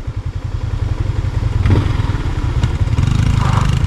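A motorcycle engine rumbles steadily up close, a low throbbing drone with a few clatters and thumps as it rides along.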